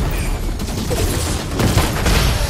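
A contact bomb explosion in the video game Fortnite, heard as a loud, rough blast amid a continuous rumble of gunfire-like bursts, with no speech.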